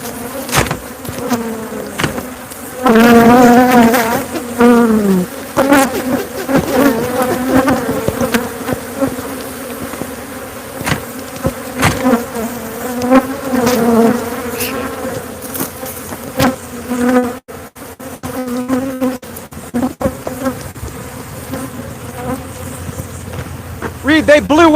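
A swarm of honeybees buzzing loudly and continuously around a room, dense droning hum with rising and falling pitch, with occasional knocks and faint talk.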